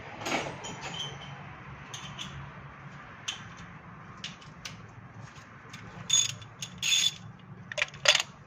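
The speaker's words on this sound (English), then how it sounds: "With the extension and a ratchet, and sometimes they're tight, so just be very careful." A ratchet with an extension and a 16 mm spark plug socket loosens tight spark plugs, giving scattered clicks and short mechanical bursts that are louder toward the end.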